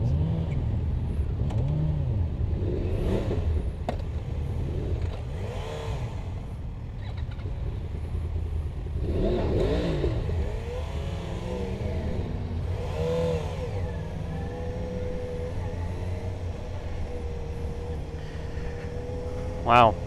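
2013 Yamaha FZ6R motorcycle on a demo ride, engine revving up and down in repeated rising and falling sweeps under wind noise, with a rider talking over it.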